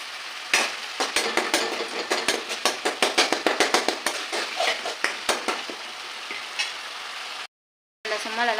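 Curry leaves dropped into hot oil while cooking chicken varuval pop and crackle in a rapid burst of sharp, close spits that thin out over several seconds, followed by a brief silence and renewed frying.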